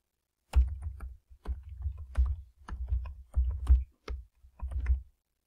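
Fingers tap out a website address on a computer keyboard, quick bursts of close, crisp key clicks in short irregular clusters separated by brief pauses.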